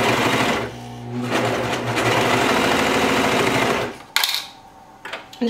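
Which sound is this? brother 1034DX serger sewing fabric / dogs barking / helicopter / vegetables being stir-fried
brother 1034DX serger sewing fabric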